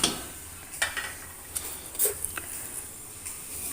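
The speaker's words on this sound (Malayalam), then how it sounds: "രണ്ട് സ്പൂണ് റവ ഒഴിച്ച് നമ്മളൊന്ന് മിക്സ് ചെയ്തെടുക്കാം" Semolina (rava) is stirred in a cooking pan: quiet, scattered scrapes and light taps from a spoon over a soft background hiss.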